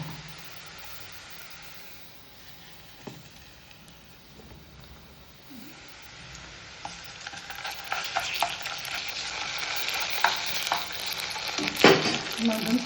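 Ginger garlic paste sizzling and frying in a pan while being stirred, a steady hiss that thickens and grows louder toward the end, with scraping stirs and small pops and no talking.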